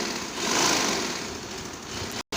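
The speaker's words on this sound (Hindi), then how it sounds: "अब हम इसके आसन की सिलाई लगाएंगे सबसे पहले।" Sewing machine running steadily while stitching the seat seam of cut trousers, a continuous close mechanical whir that stops abruptly near the end.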